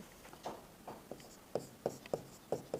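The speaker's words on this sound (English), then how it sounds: "Then I will write some dhatus here." Handwriting of Sanskrit verb roots, a pen or marker scratching out a string of short strokes in an uneven rhythm, close and fairly quiet, with no talking.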